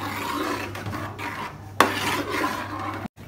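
A spoon scrapes and stirs thick homemade tomato ketchup in a pan, rasping rhythmically against the metal with a sharp knock midway and a brief silence near the end.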